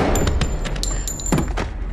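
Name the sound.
gunfire in a film scene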